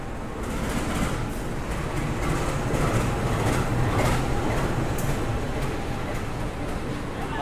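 A Dharmawangsa passenger train locomotive rumbles while being shunted at Surabaya Pasar Turi station at night, a steady low mechanical drone with faint rail clacks and a voice talking over it.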